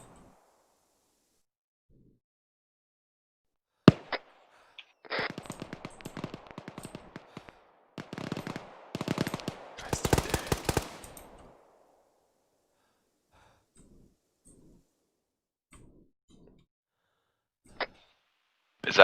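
Gunshots during a military field training exercise, sharp cracks followed by clusters of rapid, rattling shots at middle distance, with scattered single reports and long quiet stretches between.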